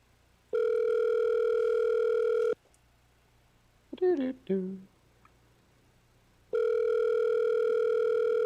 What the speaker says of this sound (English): Are you not going to answer your phone, Alex?